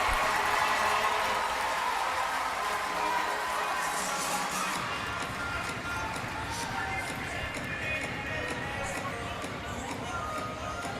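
Crowd noise swells through an indoor professional arena soccer match between Chihuahua Savage and Utica City FC, a steady, dense roar of fans that grows fuller partway through and holds under the play.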